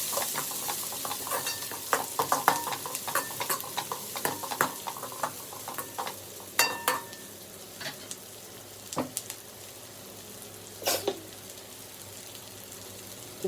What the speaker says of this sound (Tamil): சின்ன வெங்காயம் நல்லா கோல்டன் ப்ரௌன் வறுத்து வந்ததுக்கப்புறம்